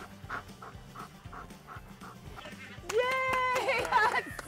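A German Shepherd pants in quick rhythmic breaths close by, then a person's voice comes in loudly over the panting near the end.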